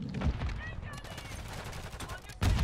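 Rapid bursts of automatic gunfire from a Lockwood 680 setup in Call of Duty MW3, crisp near shots repeating in quick succession with a louder blast near the end, no voices.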